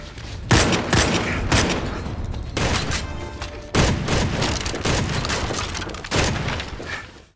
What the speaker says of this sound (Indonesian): terjadi aksi baku tembak yang cukup menegangkan